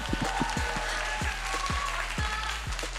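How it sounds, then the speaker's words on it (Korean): A dense wash of audience applause fills an esports arena after a player interview at a 2023 LCK Summer Split League of Legends match, steady and broad throughout with faint low thumps underneath. "네 박수 보내주세요."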